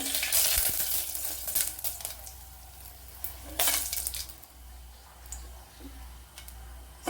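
Mustard seeds fry in a pan for a Kerala-style breakfast, giving a low steady sizzle broken by sharp crackling bursts, with one loud cluster early and another near the middle.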